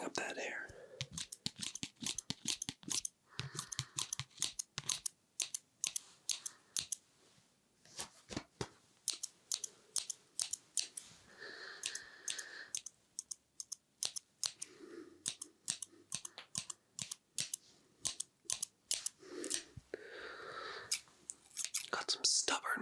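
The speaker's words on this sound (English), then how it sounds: "Let's get back to trimming up that hair." Scissors snip repeatedly in close, crisp bursts while trimming hair, with quiet whispered talk running between the cuts.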